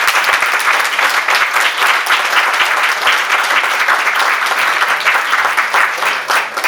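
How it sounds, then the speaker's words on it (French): A hall audience at a launch evening in La Hulpe applauds steadily and loudly, dense clapping sustained throughout with no voices over it. "Je vous demande vraiment de l'applaudir."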